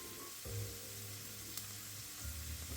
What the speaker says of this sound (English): Add finely chopped onions